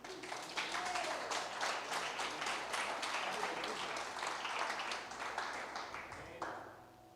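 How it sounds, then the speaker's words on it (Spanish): A church congregation applauds during a sermon, many hands clapping in a loud, fast, irregular patter that holds for about six seconds and then thins out, with a voice briefly audible. "Dese un aplauso a usted."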